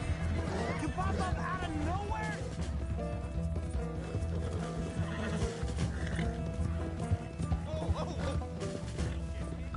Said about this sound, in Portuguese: Não é possível o cavalo dele correr mais que o meu